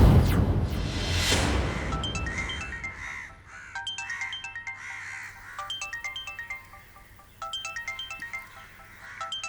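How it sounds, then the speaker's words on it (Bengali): A mobile phone ringtone plays a bright, repeating electronic melody in a Bengali film scene. It starts after a brief rushing noise and keeps ringing in clear, evenly spaced phrases. "মধু, ফোন।"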